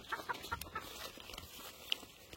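Chickens cluck in short, faint bursts at a roadside farm in southern Cameroon, with soft rural background noise and a single sharper chirp near the end.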